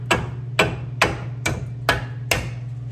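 Five evenly spaced hammer blows on a metal shield while replacing a front wheel bearing on a 2007–2014 Ford Edge, sharp ringing strikes about half a second apart over a low steady hum.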